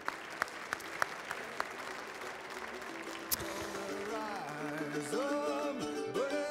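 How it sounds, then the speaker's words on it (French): Applause from an audience at a national cheesemakers' competition at a trade show, a soft, steady wash of clapping with a few sharper claps early on and some tonal sounds rising in the background. "Je voudrais qu'on l'applaudisse très fort"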